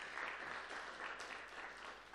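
Audience at a digital broadcast media summit giving a round of applause, a dense, continuous wash of many hands clapping at fairly low level, sustained evenly throughout.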